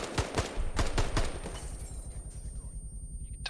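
Rapid bursts of close, loud automatic gunfire crack out in ArmA 3, several sharp shots in quick succession before fading into a quieter tail.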